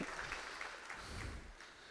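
Applause from a church congregation during a Sunday morning service, a steady dense patter of many hands filling the room with no talk over it.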